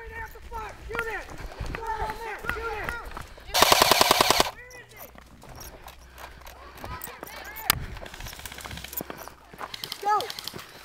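Airsoft guns fire during an outdoor airsoft game: a dense burst of rapid full-auto shots, then scattered single pops, with players shouting and running around them.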